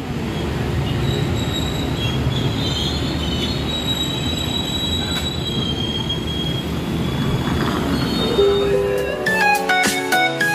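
KA Sritanjung passenger train running on rails, a loud continuous rumble with high metallic wheel squeal throughout, ending in sharp clicking and clanking of wheels over rail joints.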